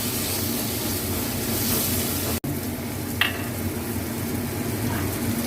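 Coriander powder and a little turmeric sizzle in a hot pan as they are stirred, giving a steady, even frying hiss broken by a brief clink of the stirring spoon.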